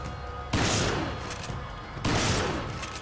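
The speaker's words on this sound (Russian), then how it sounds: "Что-то он стреляет, стреляет." Gunfire from an enemy in the co-op shooter Resident Evil 5: two loud bursts of shots, each a sharp onset trailing into a long rumbling decay, spaced about a second and a half apart, with no voices.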